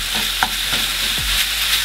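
Minced meat sizzles steadily in a hot frying pan while a wooden spoon scrapes and stirs, producing several soft knocks over the constant frying hiss.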